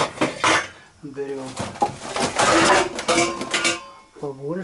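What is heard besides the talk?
large cooking pot being handled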